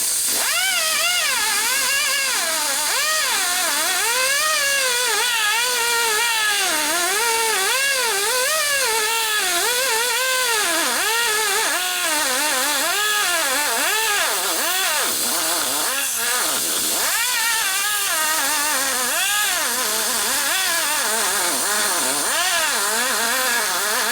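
A high-speed rotary cutter grinds the combustion chamber of a Harley-Davidson Sportster 1200 cylinder head, a continuous close whining hiss whose pitch rises and falls repeatedly as the tool moves over the metal.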